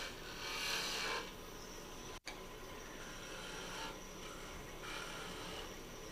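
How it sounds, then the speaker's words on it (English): Sandpaper rubs against a spinning wooden workpiece on a woodturning lathe, a steady raspy hiss with a few louder swells over the lathe's hum. "then I'll have to sand up that little nub there."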